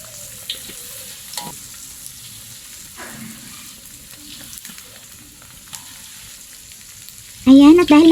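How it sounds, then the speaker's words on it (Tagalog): Chicken wings fry in hot cooking oil, a faint, quiet sizzle with occasional small pops and clinks, before a voice briefly speaks near the end. "Ire-ready ko na po yung ating cooking oil at siguraduhin po na mainit bago po ilagay pa isa-isa yung ating chicken wing."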